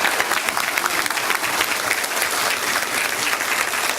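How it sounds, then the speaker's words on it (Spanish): Loud, sustained applause from an audience at an education workers' union event, welcoming union leader Juan Díaz de la Torre, filling the room steadily with dense clapping and no pauses. "Fuerte el aplauso."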